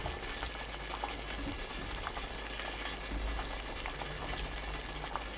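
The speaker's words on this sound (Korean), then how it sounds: "찜기에 물이 끓으면 면포 깔고 표고버섯 골고루 펼쳐 올립니다." Water boils in a steamer pot for steaming shiitake mushrooms, giving a steady close bubbling and hissing wash with small irregular pops throughout.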